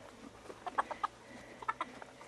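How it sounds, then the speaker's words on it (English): A bantam cockerel and hens give two quick clusters of soft clucks, a few short calls each, moderately near against faint background noise. "So there's that little cockerel. See, there he is, little banties."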